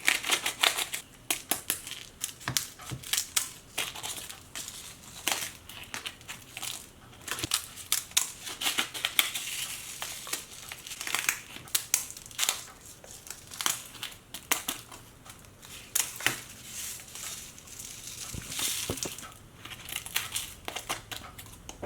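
Dried chiles are cut open by hand to shake out their seeds, giving a long run of dry crackling, crinkling and snipping, irregular bursts close to the microphone with brief pauses, no voices heard.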